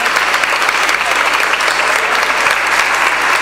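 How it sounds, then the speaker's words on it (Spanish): A large audience at a school event gives sustained, loud applause, dense and even throughout with some crowd voices mixed in. "pedirle un fuerte aplauso a ellos y a los niños que son los protagonistas"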